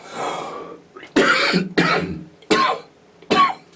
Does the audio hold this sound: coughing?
yes